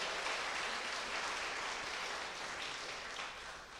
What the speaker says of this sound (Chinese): 我们再次掌声谢谢师母，来拍手拍手